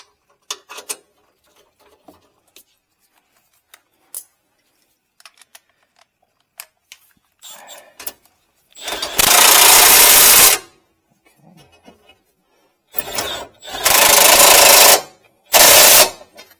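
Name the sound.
tightening bumper bolts on Ford F-250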